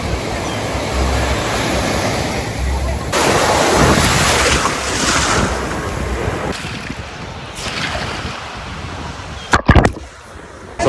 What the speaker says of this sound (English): We're here in Macao Beach. Look at this blue water.